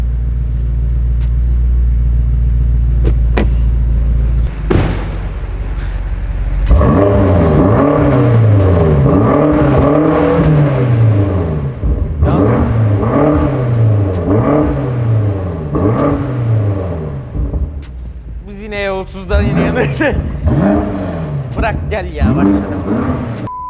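A BMW M5 Competition 35 Jahre edition engine idles with a deep rumble, then revs hard several times, each rev rising and falling sharply, loud and close.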